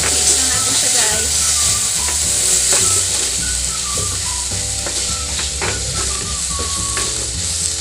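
Tuna sisig sizzles loudly in a pan while it is mixed, constant hiss with repeated spatula scrapes and clicks close by, no talk.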